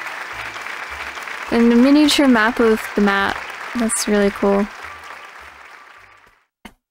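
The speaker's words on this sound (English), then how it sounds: "a big round of applause for Mayor Goldstein" A crowd applauds the mayor in the video game Raw Danger, with a steady wash of clapping that fades out while someone talks over it.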